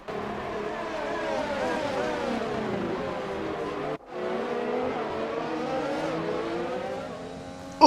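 A Mercedes-powered Formula 1 car in the F1 2020 racing game at Monza roars continuously at high revs, pitch climbing through gear shifts with a brief cut near the middle, loud and close.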